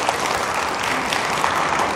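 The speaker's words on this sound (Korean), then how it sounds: "이 부분 이해되셨으면 큰 박수 한 번." An audience at a Buddhist temple gathering claps together in dense, steady applause, loud and sustained with no talking over it.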